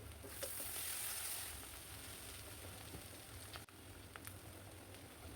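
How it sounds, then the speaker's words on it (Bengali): Small shrimp frying with onions in a pan, a faint steady sizzle with a slightly louder hiss at the start and occasional soft stirring ticks. "পেঁয়াজ ভাজার মধ্যে আমি চিংড়ি মাছ দিয়ে দিচ্ছি।"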